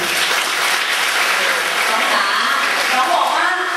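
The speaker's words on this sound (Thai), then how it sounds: "เห็นด้วยปรบมือเลยค่ะ" Dense, steady applause from a large audience at a children's event, loud and close, filling the whole stretch without a break; some voices mingle faintly in the crowd noise.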